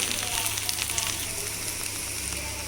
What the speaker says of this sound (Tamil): நான் ஒரு பூண்டு சேர்த்துருக்கேன். இதையும் சேர்த்து நல்லா வதக்கிக்கோங்க.